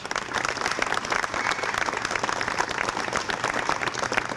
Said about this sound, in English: We want to give her a big round of applause.